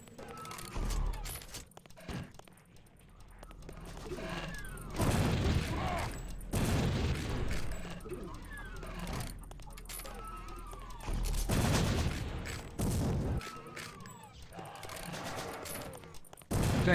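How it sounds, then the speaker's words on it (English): A shotgun firing alternate rounds in the game Samsara (Reincarnation 2.0 mod): a run of loud, sharp blasts in uneven bursts, with short gaps between volleys and mechanical clicks. "I do kind of like these alternate shotgun rounds a little bit better because I can actually see where my shots are going"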